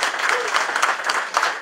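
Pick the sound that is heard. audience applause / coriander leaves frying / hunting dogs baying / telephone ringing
audience applause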